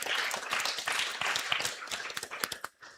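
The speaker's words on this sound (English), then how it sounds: "can we just give another big round of applause for this historic moment?" Audience applause at a climate governance forum marking a historic moment, scattered individual claps that thin out and fade to a few final sharp hits near the end.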